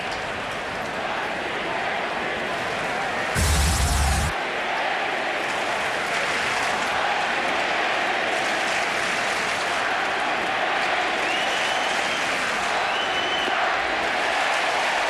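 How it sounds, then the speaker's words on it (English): Baseball crowd at Yankee Stadium during a Red Sox–Yankees game, a steady loud roar of cheering and applause that swells through the whole stretch, with a brief sharper burst near the start. "Crowd getting loud."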